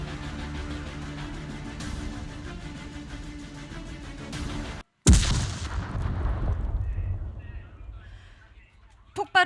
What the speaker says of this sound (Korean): 폭발음과 함께 천장이 추가 붕괴되었습니다.